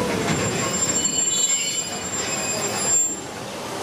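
Wheels of a Magic Kingdom park train squeal steadily as it brakes to a stop, a loud continuous metallic screech over rumbling rail noise.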